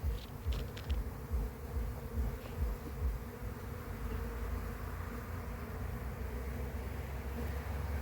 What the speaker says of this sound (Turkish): Arada yavru uçuşu başlamıştı.